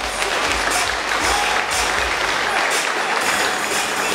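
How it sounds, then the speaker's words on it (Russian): Loud, sustained applause from a crowd at a combat sports event after a 60 kg weight-class bout, many hands clapping together in a thick continuous roar without speech. "Наши аплодисменты."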